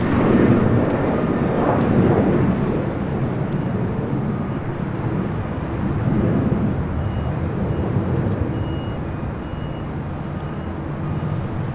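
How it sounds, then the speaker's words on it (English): A Japan Airlines Boeing 787-9 Dreamliner jet airliner at LAX, bound for Tokyo Haneda, gives a broad steady engine roar that fades slightly over time, heard from a distance outdoors with faint background voices. "Japan Airlines Flight 15 heading back to Tokyo Haneda"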